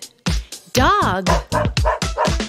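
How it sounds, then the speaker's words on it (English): An animated dog in a preschool learning cartoon gives a quick series of about eight loud, close barks and yips in an uneven rhythm, with one longer wavering whine in the middle. "Dog."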